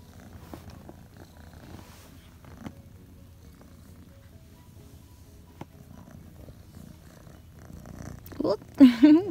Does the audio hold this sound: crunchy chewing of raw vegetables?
no